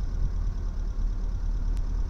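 Small old car engine running steadily near at hand, a continuous low rumble with a faint mid hiss, holding fairly even as the choke is pulled out, with no one talking.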